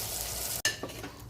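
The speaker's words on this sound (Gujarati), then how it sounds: "રીંગણને 2-3 મિનિટ આપણે સાંતળીશું" Stuffed eggplant sautéing in a hot pan gives a steady, close sizzle, broken midway by a single sharp clack of a utensil, then a continued frying hiss with light stirring scrapes.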